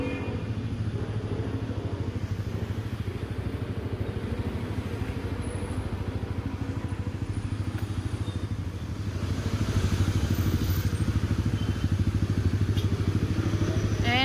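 Motorcycle engine at a police checkpoint in Manila, a steady close idle and rumble with a low repetitive beat that grows louder and harsher near the end, with faint traffic clatter around it.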